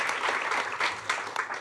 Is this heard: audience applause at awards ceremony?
yes